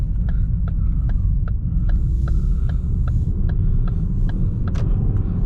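A used car's engine drones steadily while it is driven, holding a high-revving hum with a regular ticking over the low rumble, heard from inside without talk.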